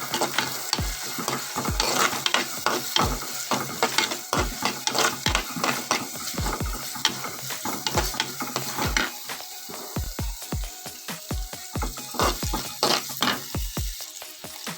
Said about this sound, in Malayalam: അതുകൂടി ചേർത്ത് നല്ലതുപോലെ ഒന്ന് ഇളക്കി വഴറ്റിയെടുക്കാം